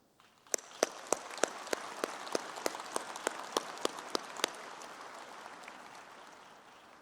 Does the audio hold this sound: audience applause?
yes